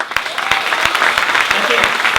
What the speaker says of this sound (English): So give them all a big round of applause, please.